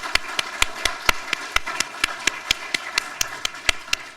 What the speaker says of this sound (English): Yes, a round of applause.